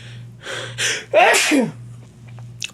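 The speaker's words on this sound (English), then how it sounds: "That was a sneeze." A single loud sneeze with a sharp intake and burst, preceded by a couple of breathy sounds, over a steady low hum.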